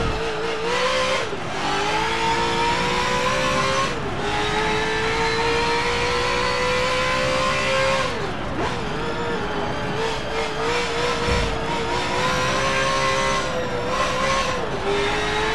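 A GT race car in Forza Motorsport 7 accelerates hard, its engine screaming in a high, steady whine that dips briefly at each gear change and climbs again, loud and close throughout with no talking.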